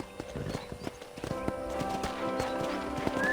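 Horse hooves clip-clop at a steady walking pace in the Western video game Red Dead Redemption, with close, crisp rhythmic knocks over ambient game sound and music, and no talk during the hoofbeats.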